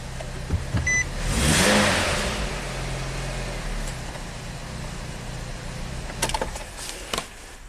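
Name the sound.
Nissan Sentra engine restarting and revving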